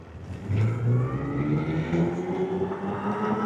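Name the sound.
electric kids ATV spinning its lifted inside tire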